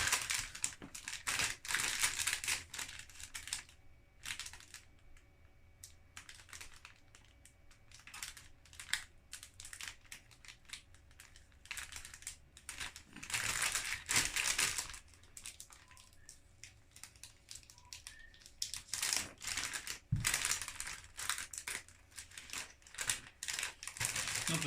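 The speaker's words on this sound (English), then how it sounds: "let's cut open baggy number 1." Sealed plastic Lego Bionicle parts bag cut open and handled, with crinkling plastic rustles and small clicks coming in irregular bursts close by, no talking.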